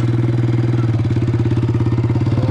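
Kylek motorcycle engine running at a steady low idle, a close, rhythmic chugging pulse that holds even and loud throughout, with no voices.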